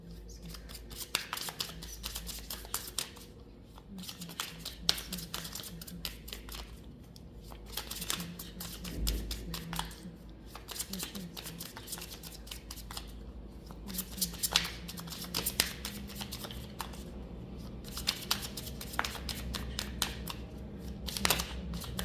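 Tarot cards shuffled by hand close up, giving a steady run of crisp papery snaps, riffles and soft sliding rustles that come in repeated bursts over a low background hum.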